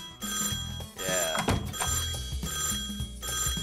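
A telephone rings indoors in repeated bell-like bursts over ongoing music or background sound, fairly loud and close, with a brief thump partway through.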